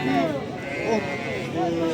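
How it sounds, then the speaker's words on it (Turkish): Lambs bleat at a sheep market, several high wavering cries close by, overlapping with people talking in Turkish. "70 tane kuzu"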